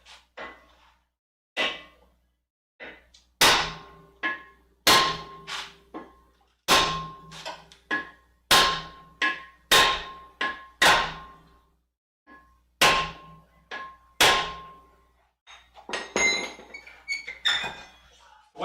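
A hammer whacks a brake rotor again and again, producing loud metallic clangs that ring briefly, struck at an uneven pace about a dozen times or more, each hit standing out against near silence.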